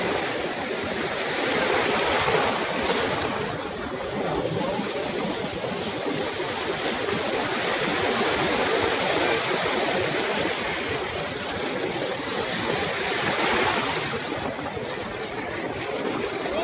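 Rushing surf swells and recedes in slow surges, a broad steady roar of breaking waves nearby at a Chennai beach, with no talking.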